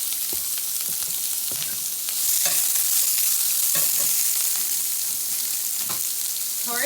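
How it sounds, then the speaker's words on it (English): Onions fry in oil in a pan used earlier for tomatillos while making tacos at home, with a steady, loud sizzle broken by repeated stirring scrapes and clinks. "in that same pan that I did the tomatillos, I'm gonna put a little bit of oil. And I'm gonna add my onions."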